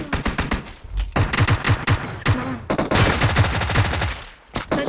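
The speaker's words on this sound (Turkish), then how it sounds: "Ben adamlara sıkıyorum burada" Rapid bursts of automatic gunfire from a video game firefight crackle up close and loud, with several short volleys separated by brief gaps.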